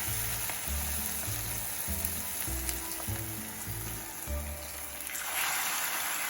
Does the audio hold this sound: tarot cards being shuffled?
no